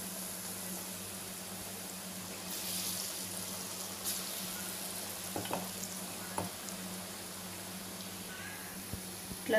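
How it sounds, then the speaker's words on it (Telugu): Small balls of ground lentil batter deep frying in hot oil, a steady close sizzle with a few soft clinks and bubbling pops. "మన పిండి ఇప్పుడు చిన్న చిన్న బాల్స్ లాగా నూనెలో వేసి డీప్ ఫ్రై చేసుకోవాలండి"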